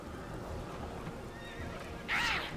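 Cavalry horses in the Battle for Middle-earth strategy game give a sharp, loud whinny near the end, following a quieter stretch of game ambience and faint hoof clatter.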